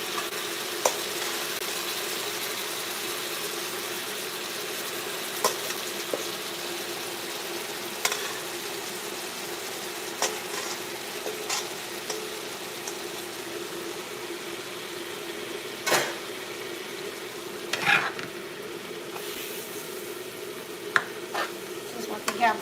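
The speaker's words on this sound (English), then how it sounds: "Stir fry." Tomatoes stir-frying in a pan for a sweet potato and stew fish meal: a steady soft sizzle runs throughout, broken by occasional sharp utensil scrapes and clinks, with a faint voice now and then.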